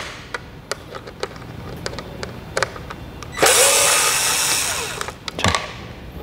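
A power tool unscrews the bolts on a car's charging port during a swap to a faster charging port on a KG Mobility Torres. Scattered sharp clicks come first, then one loud whirring burst of about a second and a half, followed by a few more clatters.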